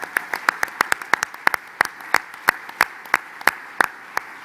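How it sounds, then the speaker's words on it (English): A small audience at a business hall of fame ceremony claps, each crisp clap standing out separately in a loose, steady rhythm that lasts several seconds. "I think he deserves another round of applause."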